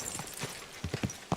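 Quick clip-clop of video game horse hooves in an uneven run of sharp knocks, fairly close, with no talking.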